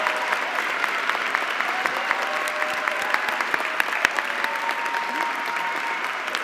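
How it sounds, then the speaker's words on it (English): An audience at a university student recognition ceremony gives steady, moderately distant applause to the 2022 award recipients, an even patter of many hands throughout. "Please join me for a round of applause for the 2022 recipients of the Order of Laurel and Palm."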